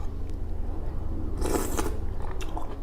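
Someone eats a Thai soup of pork bones, large pork pieces and pickled bamboo shoots, with a loud close crunching bite about halfway through and chewing and scraping around it. No one speaks.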